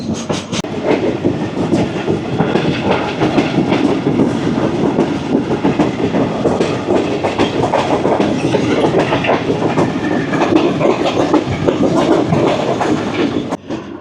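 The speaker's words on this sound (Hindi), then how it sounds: "शाम के 4 बज रहे हैं और तेज़गाम अप्रोच बना रही है रायविंड जंक्शन पर।" The Tezgam passenger train running toward Raiwind Junction, a steady loud roar of rolling wheels with continuous clickety-clack rhythm over rail joints, heard close from aboard and holding throughout before cutting off near the end.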